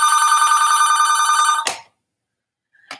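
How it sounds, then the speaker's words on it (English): A telephone bell rings loudly and steadily for an incoming call, cuts off abruptly after about a second and a half, and after a short silence a brief second ring starts at the end. "Ugh, of course, I get a phone call."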